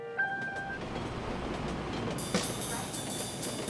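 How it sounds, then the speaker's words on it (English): Riding the L train in Philadelphia: a steady rumble and rattle of the rail car fills the space, with a sharp rise in clatter and squeal partway through. A faint tone sounds near the start. "All right, we're on the train, the L train."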